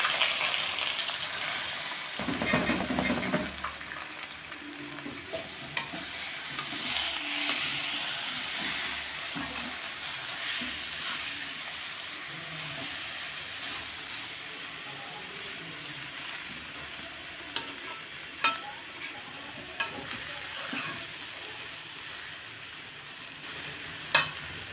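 Vermicelli sizzles in hot oil with cardamom and cinnamon for sweet zorda semai, a loud opening burst of frying that settles into a steady hiss, broken by scraping stirs and clinks of a spoon against the pan.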